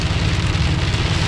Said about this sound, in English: we are running into hail, which is no bueno